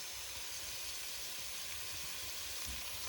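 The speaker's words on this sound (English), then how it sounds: "So now that the onions have browned, we'll add our diced carrots, diced celery," Diced carrots and celery sizzle in a pan with browned onions, giving a steady, close hiss that runs unbroken and fairly quiet throughout.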